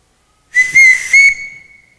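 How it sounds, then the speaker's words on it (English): A sharp, shrill whistle from a stage musical sounds alone, with two quick pulses and then a thinner sustained tone that fades away. "Everyone in this house answers to a whistle."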